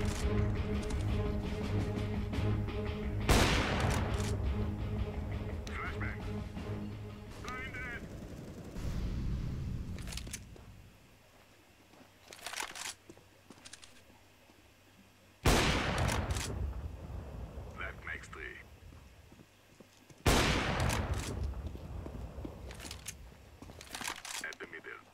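An AWP sniper rifle fires in CS:GO, with several sharp, loud shots spaced seconds apart and quieter mechanical clicks and game sounds between them.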